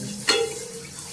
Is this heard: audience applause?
no